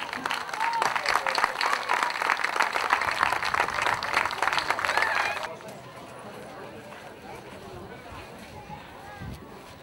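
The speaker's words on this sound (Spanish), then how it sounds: "Un aplauso para Doña Milagro." Loud audience applause for Doña Milagro at a fiesta in La Bomvilla, dense rhythmic clapping for about five seconds that drops off sharply to a quieter room murmur with faint voices.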